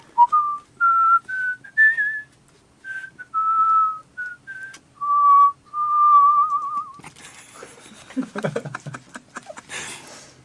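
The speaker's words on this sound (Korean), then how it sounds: "오랜만에 휘파람 부르라고 하니까 뭐 신나긴 하네요" Someone whistles the US national anthem, clear notes rising and falling in a slow melody. Rustling and laughter-like noise follow once the tune ends.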